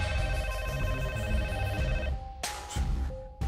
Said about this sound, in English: The longer it rings, it seems like the ring gets longer.